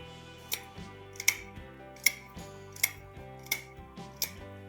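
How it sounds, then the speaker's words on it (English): Rotary leather punch set to its smallest 2 mm tube punching holes in leather strap ends, giving six sharp, evenly spaced clicks over a low background hum with no talking. "take my rotary punch and on the smallest setting, so in my case this is 2 millimeter, I like to make a hole at the end of each cut"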